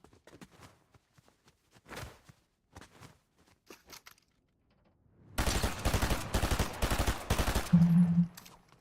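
Burst SMG fire in a Fortnite-style shooter rattles out in rapid close bursts in the second half, after scattered footsteps and quiet crunches.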